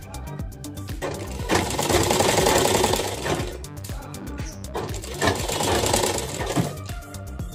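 An electric sewing machine with a worn needle stitches lehenga blouse fabric in two long bursts of fast, rattling mechanical chatter, close and loud, pausing briefly between runs.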